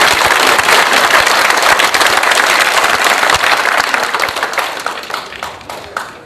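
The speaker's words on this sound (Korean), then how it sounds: "박수로 응원해 주십시오." Loud, dense applause from a large audience at a memorial ceremony in a hall at Seoul National Cemetery, sustained and then gradually thinning and fading out.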